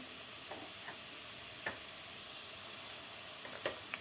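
A soft, continuous sizzle comes from fried onions as tomato and pepper paste is stirred in, with a few faint scrapes of the spoon against the pan, quiet and without talk.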